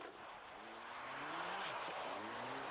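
A rally car on a Monte Carlo stage, its engine note rising and dipping as the driver feathers the throttle while the tyres fight for grip, heard from inside the cockpit with steady road roar.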